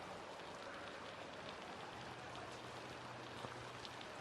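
Steady rain pattering across the ground in the Assassin's Creed Valhalla video game, a continuous soft hiss of drops with a low hum underneath and no voices.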